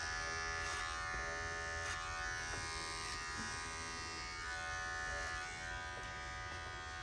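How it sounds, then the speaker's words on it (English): Electric hair clippers buzz steadily and close up while they cut and blend a men's faux hawk, a constant droning hum with slight shifts as the blades move through the hair, and nobody speaks. "I'm gonna blend from that 0 up into my haircut just by utilizing my control of my clipper with my hand"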